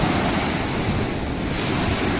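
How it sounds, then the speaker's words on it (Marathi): Stormy sea surf pounds the shore beside the Ganpatipule temple during heavy rain, a loud, continuous roar of crashing waves mixed with gusting wind buffeting the microphone. "तुफान लाटा येत आहेत."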